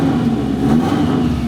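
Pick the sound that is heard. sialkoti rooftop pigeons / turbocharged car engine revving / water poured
turbocharged car engine revving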